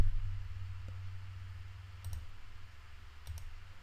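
A few light keyboard key clicks, single taps spaced apart, sound faintly over a low steady hum.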